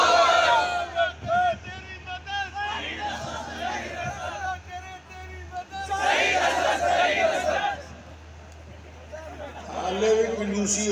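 At a religious stage gathering in Mandi Quarter, Faisalabad, a large crowd chants a slogan in loud, rhythmic unison in answer to a takbir call, with the voices swelling in bursts over a leading voice.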